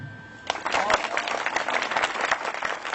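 An audience at a live show in Mouriès gives hearty applause after a faint murmur, the clapping starting abruptly and continuing thick and steady at moderate loudness.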